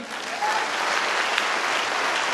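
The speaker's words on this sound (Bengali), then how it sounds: "হাততালি হয় না?" Audience applause at a seminar on stage, a steady dense wash of clapping from a sizable crowd that swells slightly after the start and holds evenly throughout.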